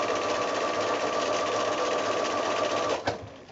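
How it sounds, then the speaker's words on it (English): A sewing machine runs steadily, stitching a quilt block along a drawn line, its continuous whir holding for about three seconds before stopping with a soft clunk. "I can get my next block that's all ready to sew and pop that right there so that I continue sewing on the drawn line onto the next"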